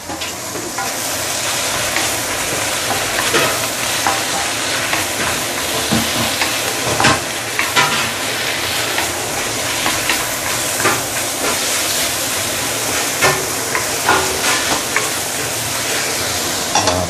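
Okra stir-frying in a wok with ikan bakar chili paste gives a continuous loud sizzle and steamy hiss, with scraping stir strokes breaking through now and then for the whole stretch.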